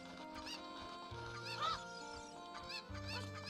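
A cucco hen in Zelda Ocarina of Time clucks in short, bright bursts, a few clustered calls over a soft, steady game music bed with low tones, faint and close.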